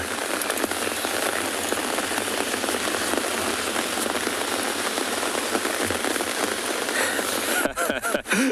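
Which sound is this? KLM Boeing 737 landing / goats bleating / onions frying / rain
rain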